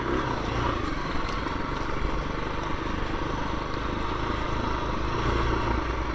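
A 2021 KTM 350 EXC-F dirt bike engine runs steadily and loudly up close, a continuous buzzing mechanical drone with slight surges as the throttle rises, with no voices over it.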